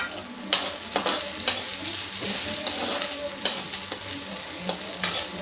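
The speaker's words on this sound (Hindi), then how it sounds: "अब थोड़ा प्याज डाल देंगे।" Steady sizzling of onions frying in a hot pan, with a few sharp clinks of a spoon stirring at intervals; no voices.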